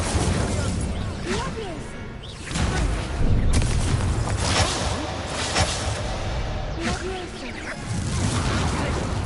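Fiery whooshes and booming bursts from the Incendio fire spell in the Hogwarts Legacy video game flare repeatedly, loud and close, mixed with other spell effects and voices speaking throughout.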